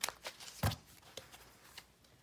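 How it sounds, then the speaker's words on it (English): Quiet, close riffling and soft slaps of an oracle card deck being overhand shuffled by hand, a few quick bursts. "I tended to overhand shuffle this one too."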